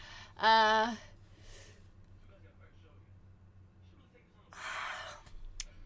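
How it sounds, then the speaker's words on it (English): A person yawns once near the start, a loud, drawn-out voiced sigh about half a second long, followed by quieter breathy exhales and faint background hum. "You yawned, didn't you?"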